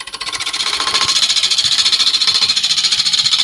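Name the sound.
woodturning silver birch bowl with titanium nitride coated ball gouge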